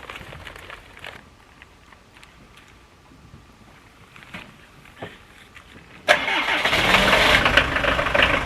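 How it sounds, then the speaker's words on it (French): A camper van engine cranks and catches after a quiet stretch with faint background sounds, then settles into a loud, steady idle that continues to the end. "On va démarrer le camping-car pour laisser tourner assez longtemps,"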